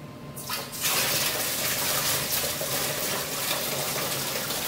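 Beer wort for a Brewer's Best Kolsch homebrew kit being poured through a hop strainer, giving a steady, loud, close-up gush of liquid that runs continuously after a brief start, with no talking.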